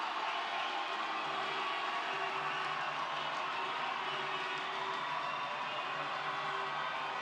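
Ice hockey crowd in a Montreal arena at a women's university championship quarter-final, cheering after a goal, a steady far-off wash of cheers and applause held at a moderate level throughout.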